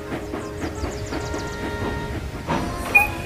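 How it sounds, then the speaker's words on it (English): A train engine from the Cherney Valley Railway pulls in within a Roblox game, its steady rhythmic clickety-clack rolling along at moderate volume with a short, sharp whistle-like note near the end. "James, the engine comes from the Cherney Valley Railway."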